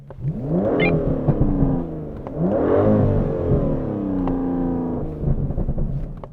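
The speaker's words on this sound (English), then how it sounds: "let's just hear your engine. Let me do mine first." An Aston Martin DBS engine revs up and down in a few rising and falling sweeps, loud and close, droning continuously throughout.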